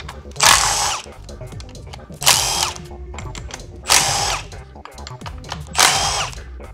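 Power tool spinning out 10 mm bolts from a car transmission during a synchro rebuild, four separate short whirring bursts spaced about a second and a half apart, with mechanical clicks and handling noises between.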